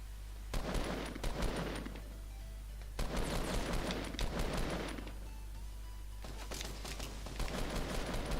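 Rapid bursts of automatic gunfire from a Fortnite battle royale match, three dense volleys of repeated shots separated by short pauses, moderately loud with no talk.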